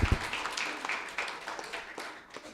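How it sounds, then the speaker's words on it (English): Scattered applause from a small audience at a Unity church gathering, a steady patter of hand claps at moderate distance with no voices over it. "Yeah, clap it up."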